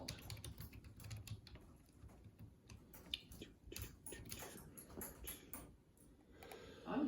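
Quiet, rapid typing on a computer keyboard, a steady irregular patter of light key clicks continuing throughout with no voices.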